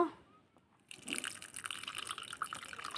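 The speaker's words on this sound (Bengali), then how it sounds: "জল দিয়ে ভিজিয়ে দিলাম" Water is poured over tamarind in a bowl to soak it for an egg sour curry, a steady close liquid splash and trickle that starts after a quiet second and runs to the end, with no talk.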